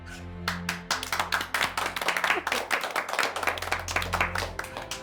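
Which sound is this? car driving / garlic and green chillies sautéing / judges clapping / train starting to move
judges clapping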